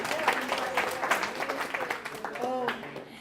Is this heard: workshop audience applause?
yes